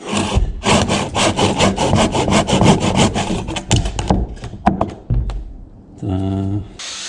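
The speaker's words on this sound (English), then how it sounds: "It's a handsaw." A handsaw cuts through wood in a workshop garage, with rough rasping strokes in quick succession, then a few knocks and scrapes as the blade binds, and a brief hum near the end.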